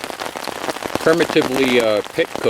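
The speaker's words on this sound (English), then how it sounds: "It's coming down pretty good up here, a mixture of rain and sleet and snow." Mixed rain, sleet and snow falling outdoors at a rock cooking pit, a steady patter of drops on surfaces running throughout while someone talks over it.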